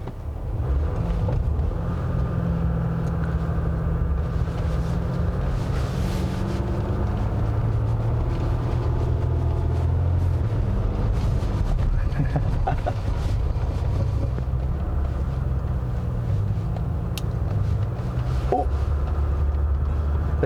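A 2021 Jeep Gladiator EcoDiesel pickup revs under full throttle in snow in two-wheel drive, while aggressive traction control holds the power back. Its engine drone stays steady and loud, with wheel and snow rumble and no talk.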